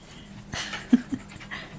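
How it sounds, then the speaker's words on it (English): A dog startled awake from sleep pants and huffs nearby in a few quick, breathy bursts, with a couple of sharper puffs partway through against a quiet room. "Oh, I scared my dog there. She was sleeping."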